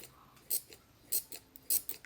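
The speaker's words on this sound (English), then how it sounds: "I used acetone to clean my scissors, finally, okay? And now it makes this noise." Scissors cleaned with acetone make a short, crisp, high-pitched scraping squeak on each snip, about five bursts at irregular intervals, close and alone.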